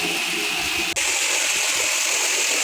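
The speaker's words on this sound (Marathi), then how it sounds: "पाण्याचा आवाज येत असेल असं तुम्हाला" Water rushes steadily from a tap into a bucket, a continuous loud gush with a brief dip partway through.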